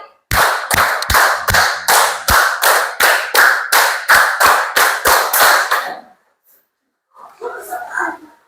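About fifteen sharp hand claps in a steady, slightly quickening rhythm during a counting clapping exercise in a lesson, close and loud, then silence and a brief soft murmur of voices at the end.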